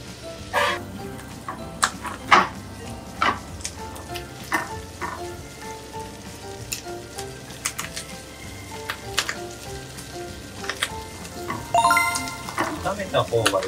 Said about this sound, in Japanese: これをチャーハン炒めていきます